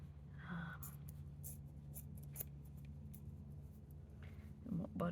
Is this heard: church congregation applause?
no